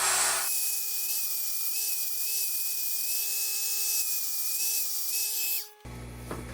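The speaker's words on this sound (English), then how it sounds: "I'm going to open this area up with a carbide burr before I drill" A carbide burr grinding into steel on a garden tractor front axle being rebuilt, a high steady whine with slight pitch wavering for about five seconds before it stops abruptly, leaving a low background rumble.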